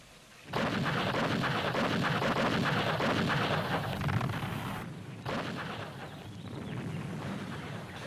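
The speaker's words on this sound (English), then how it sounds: "The Viet Minh assault began with a massive artillery bombardment." Massive artillery bombardment in the Viet Minh assault on Dien Bien Phu, 1954: a loud, continuous roar of rumbling blasts that starts abruptly, dips briefly near the end and then carries on.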